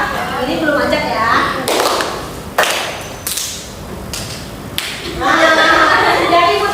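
A class clapping as a group on the teacher's signal: a voice speaks, then four loud single group claps ring out at uneven intervals, with talking picking up again afterward.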